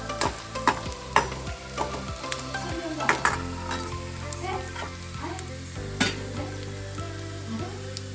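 Two torn dried red chilies sizzling in hot oil in a pan, served with dried stingray fish, with a continuous crackling fry, sharp pops and clinks as the spoon stirs against the pan.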